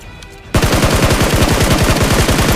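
Rapid automatic gunfire in BGMI/PUBG Mobile bursts in after a quiet moment, a loud, fast, evenly spaced string of shots running continuously to the end.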